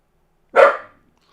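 A dog lets out a single sharp, close bark that stands out against silence.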